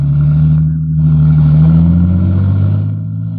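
A car driving off in a radio-drama sound effect, its engine droning loud and close, the pitch rising as it pulls away, then easing off at the end.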